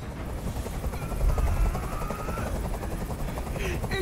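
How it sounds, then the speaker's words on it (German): A helicopter's rotor chops steadily with a low rumble, mixed with background noise and a few bursts from the game Detroit: Become Human. "Dieser Helikopter soll verschwinden."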